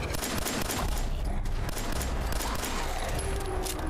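Rapid bursts of gunfire from the post-apocalyptic shooter Fallout 4, a dense, continuous clatter of shots lasting the whole stretch at steady loudness, with no pauses between volleys.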